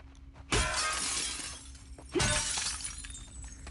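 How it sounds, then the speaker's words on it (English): Glass shattering in The Last of Us Part 2: two loud, sudden crashes about a second and a half apart, each bursting into bright scattering shards and tinkling debris that fade before the next break, over a quiet low game hum. "Thanks for hitting the wrong glass there, Abby."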